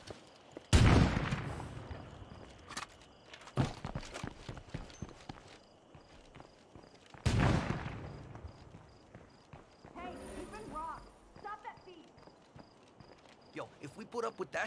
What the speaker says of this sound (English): somebody ripping a couple of shots off with a 50 cal